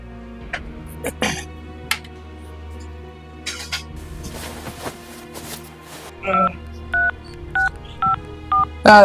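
A telephone keypad is dialed to call a doctor: a quick run of about seven evenly spaced, clear beeps near the end, after scattered coughs, throat clearing and soft clatter in a room.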